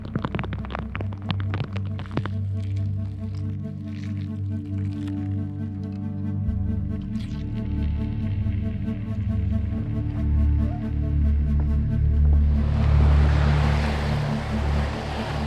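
Paddling a boat on open water in the Yukon wilderness in driving rain: close splashes and drips over a steady low rumble of water and wind, with a broad hiss swelling near the end.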